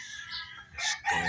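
Chickens cluck and a rooster crows nearby in a short, loud burst, the calls rising and overlapping at close range with no talking.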